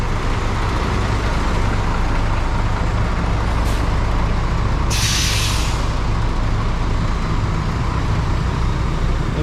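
Buses idle and move through a busy Malaysian bus terminal open 24 hours, a loud steady diesel rumble with a short hiss and then a longer sharp burst of air brake release midway.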